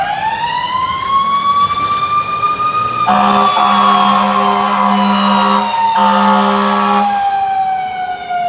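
An ambulance siren wails loudly and continuously, sweeping up and down in pitch as the emergency vehicle pulls out on a call, with a second steady tone joining midway before fading back to the single wail.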